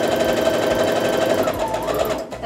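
A sewing machine stitches down the seam of a quilt block, a steady, fast mechanical whirring with rapid needle clatter, close and continuous until it stops near the end.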